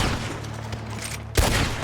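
Gunfire from a Lancaster rifle in a video game shooter, a steady rattle of distant shots under game ambience, then one sharp, louder blast near the end.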